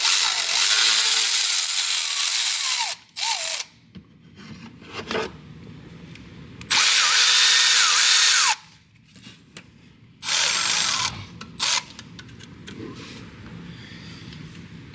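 A power tool whirs in three loud bursts with smaller ratchet clicks between them, removing the dipstick tube hardware on a 2022 Ford 6.7 engine, close and free of talk.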